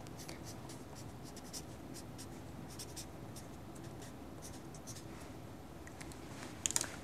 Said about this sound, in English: now when I write something on the card and weigh it again